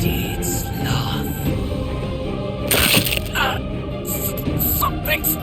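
A crushing, cracking impact in the Re:Zero − Starting Life in Another World video game, a sharp crack bursting out near the middle over dense game music and effects, with speech-like voices mixed in.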